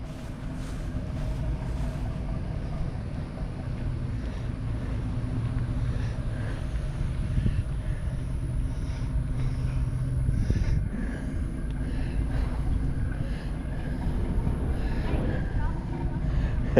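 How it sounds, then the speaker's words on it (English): A big boat passing through a lock, its engine a steady low rumble, close and continuous, with wind noise over the microphone and faint background sounds throughout. "That's a big boat, ain't it?"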